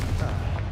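A Confringo fire spell blasts off in Hogwarts Legacy, a short, dense, booming burst that fills the moment.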